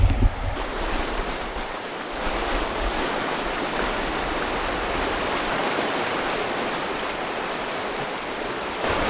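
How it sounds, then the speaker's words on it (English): Rapids on a crystal-clear mountain river in the Kaimanawa ranges, a loud, close, continuous rushing and churning of water that stays steady throughout with no voices. "Here's some rapids."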